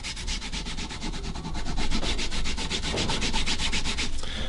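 Rapid back-and-forth rubbing of a lye or potash chemical stain onto wood with an applicator, a steady rhythmic scrubbing that grows slightly louder midway and runs alone without talk.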